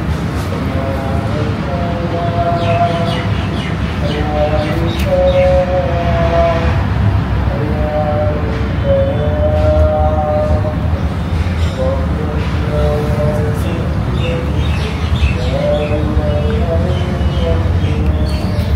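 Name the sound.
call to prayer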